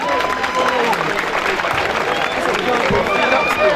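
Audience applause and cheering at the finale of a dance battle competition, a dense, steady wash of clapping and crowd noise filling the whole moment without pause.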